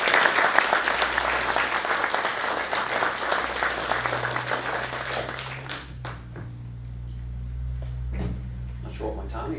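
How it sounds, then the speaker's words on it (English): Audience applause fills a hall after a mayor's State of the City address, loud and dense at first, then thinning to scattered claps over a low hum. "I want to give you guys a round of applause."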